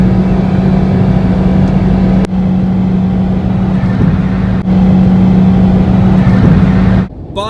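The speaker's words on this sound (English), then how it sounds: "For a small car, the Cube also makes a lot of noise." A loud, steady engine drone from a Nissan Cube with a CVT transmission, with a constant low hum, heard from inside the moving car, with a couple of brief thumps.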